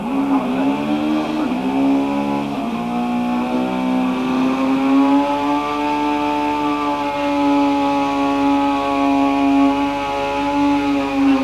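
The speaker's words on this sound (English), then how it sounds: "He's doing over 100 mile an hour as he goes through beyond the west stand there." Racing motorcycle at a 1989 power sports festival at Aintree, passing at over 100 mph as a loud sustained engine howl holding a high steady pitch, rising slightly as it passes, with no talking.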